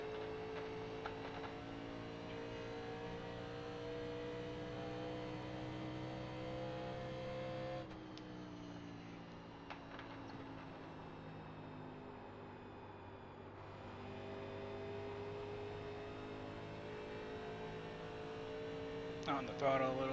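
A NASCAR Legends race car in iRacing at Pocono drones through its engine, holding steady harmonic revs, then dipping at a gear change before climbing again, with someone talking over it.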